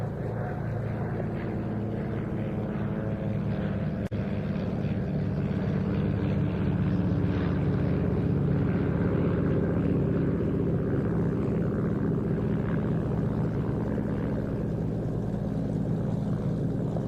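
A de Havilland Chipmunk light aircraft flying in a VE Day air display at IWM Duxford, its propeller engine droning steadily and loudly throughout with a constant, unbroken tone.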